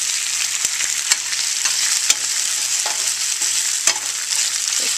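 Onion frying in a pan for beef in white sauce, a loud continuous sizzle broken by scattered sharp crackles and pops, close and steady, with no voices.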